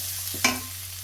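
A single short scrape of a spoon stirring food in a pan over a low flame, with a faint steady sizzle underneath, heard alone and close.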